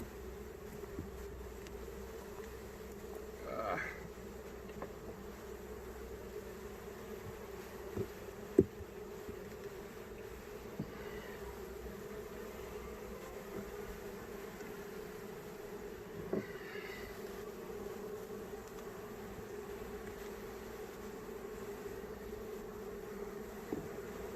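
A steady low hum of honeybees at an open hive during inspection drones throughout, with a few louder buzzes passing close by now and then; no voices.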